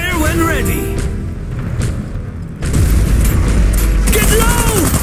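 Heavy gun fire and explosions in the Iron Harvest campaign, a deep boom and rumbling blasts with mechanical clatter, loud and close, under urgent shouted voice lines.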